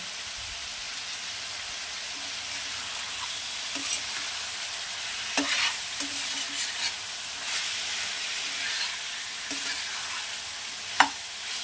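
Chicken marinated in sour yogurt sizzles steadily in a pan over high flame, with a constant frying hiss broken by occasional scraping stirs and a sharp utensil knock near the end.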